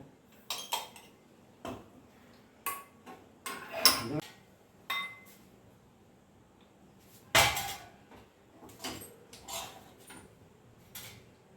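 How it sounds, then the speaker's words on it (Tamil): A spoon scoops thick, sticky urad dal kali into a cup, producing scattered metallic clinks and scrapes against the pot and cup, with a few louder knocks separated by quiet pauses and no talking. "இந்த கப்பில் எடுத்து வைக்கிறேன் பாருங்கள்."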